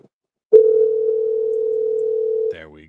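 A telephone dial tone plays as a single steady low hum for about two seconds after a click, then cuts off as a voice begins speaking.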